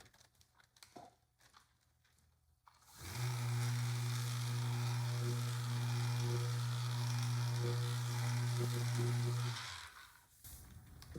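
A plastic headlight lens being sanded with 1000-grit sandpaper during a headlight restoration gives a steady, even hiss over a low, constant hum. It runs unbroken for about six seconds, then stops abruptly.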